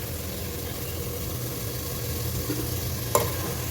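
Mustard oil and ghee frying with a bay leaf and whole spices for beef dum biryani, a steady close hiss of oil with a brief clink near the end.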